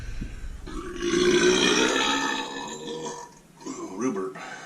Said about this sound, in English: Real burp. Instead of foamy burp.